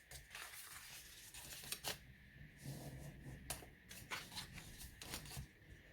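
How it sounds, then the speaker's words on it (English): Scored paper lines being folded for a large butterfly gift box lid, a quiet, close series of crisp creasing swipes and papery rustles, some sharper pressing strokes standing out. "even fold all the score lines first"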